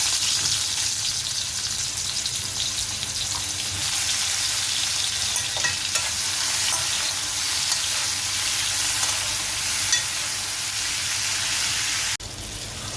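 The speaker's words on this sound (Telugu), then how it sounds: "ఆయిల్ వేడైన తర్వాత మష్రూమ్ని ఫ్రై చేసుకోవాలి." Mushrooms fry in hot oil in a pan on a stove with a loud, continuous, close hiss and crackle that holds steady throughout, softening slightly at the very end.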